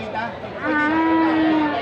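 A carabao, or water buffalo, at a livestock market in Batangas lets out a single long, low moo that swells and holds close by, with faint crowd chatter behind.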